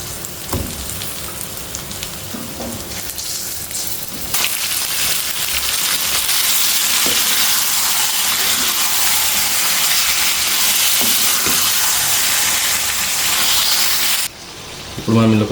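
Marinated chicken sizzles and fries steadily in a hot pan for a spicy dry-fry dish, a continuous loud hiss with faint crackles that swells once the pieces go in and cuts off near the end.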